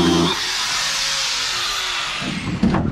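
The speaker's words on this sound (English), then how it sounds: "I'm gonna cut this rod" A loud, steady power-tool whine grinding continuously through a metal rod on a boat, with a slight bump in pitch and level near the end.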